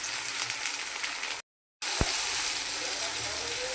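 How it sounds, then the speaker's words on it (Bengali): Chopped tomato, potato and onion fry in a pan for a fish jhal, a steady close hiss and crackle broken briefly by a gap of silence, then resuming at the same level. "এটা ভাজা হয়ে গেছে টমেটো আলু পেঁয়াজটা"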